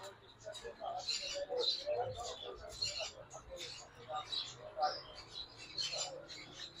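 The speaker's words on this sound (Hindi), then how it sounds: "यहाँ पर हमारे पास एक सन कनौर का हाई रेड फैक्टर में ब्रीडर पेयर" A breeder pair of high red factor sun conures gives bursts of shrill chirps and squawks nearby. The calls come in irregular clusters and are fairly steady throughout.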